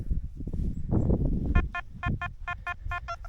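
Metal detector signal while digging for coins, a run of about ten short, evenly spaced electronic beeps rising out of scraping and shuffling at the dig site, loud and close.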